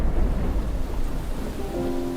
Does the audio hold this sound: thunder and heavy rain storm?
yes